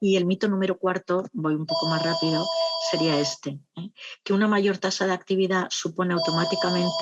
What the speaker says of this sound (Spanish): perdón por el teléfono, pero espero que no moleste mucho.